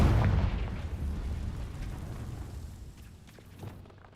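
Confringo fire blast spell in the Hogwarts Legacy video game: a loud booming explosion that hits at once, then rolls and fades over several seconds with a faint later thump, and no voices.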